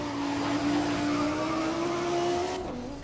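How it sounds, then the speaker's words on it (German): Sustained tire squeal from cars in the racing video game Grid, a steady high screech running loud and continuous for about two and a half seconds over engine roar, then cutting off abruptly. "nervige Reifenquietschen."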